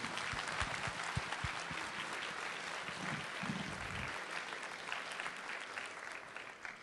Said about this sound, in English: Let's give them one more big round of applause